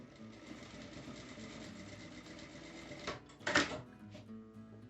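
A sewing machine runs in one steady stitching burst, stitching a double-folded hem about 1 cm deep along a drawstring bag seam, then stops and is followed by a brief louder rustle or clatter of fabric handling.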